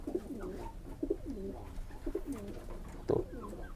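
A caged pigeon gives repeated throaty coos in short rolling phrases, close and fairly soft, with a louder, sharper coo near the end.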